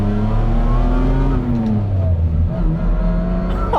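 A Lamborghini LM002 truck engine rumbles close and loud, its deep steady drone rising and falling in pitch as the revs climb and ease off without a break.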